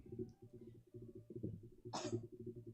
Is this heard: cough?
yes